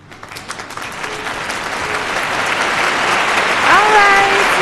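Applause swells gradually in a radio studio after a correct spelling-bee answer, the clapping growing louder toward the end while a few brief tones sound over it.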